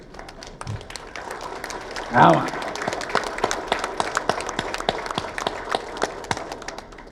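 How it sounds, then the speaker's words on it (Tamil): Scattered audience clapping at a project launch for a Global Tamil Nadu House in Washington D.C., sharp hand claps continuing through the clip, with a brief burst of crowd noise and a spoken word near the start. "எல்லாரும் ஒரு கைத்தட்டுங்க"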